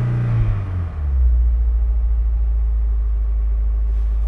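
A stock 2002 Honda S2000 AP1 engine with no exhaust fitted is revved to warm up. The first second is a rough, rising rev, which settles into a loud, deep, steady drone with a slight pulsing throb.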